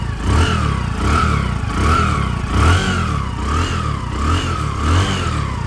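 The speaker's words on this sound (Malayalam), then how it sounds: "എൻജിൻ്റെ സൗണ്ട് ചെറിയ സ്മൂത്ത് സൗണ്ട് തന്നെയാണ്" A cheap used motorcycle engine revs up and down in repeated surges, steady and fairly close, running smoothly with no voices.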